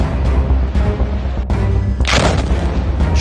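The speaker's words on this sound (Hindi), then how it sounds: "तीसरा धमाका" Deep booming explosion blasts in Gaza over a constant low rumble, one sharp bright burst standing out near the end.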